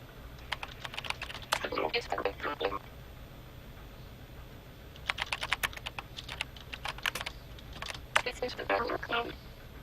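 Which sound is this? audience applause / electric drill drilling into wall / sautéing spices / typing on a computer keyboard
typing on a computer keyboard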